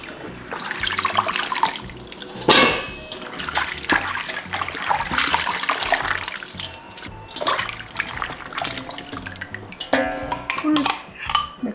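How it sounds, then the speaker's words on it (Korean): Water pours and splashes over salted ticklish radishes (chonggak) being prepared for kimchi, running in a steady stream with sloshing surges and trickles, close and fairly loud. "물 부어서 건지기만 되겠습니다"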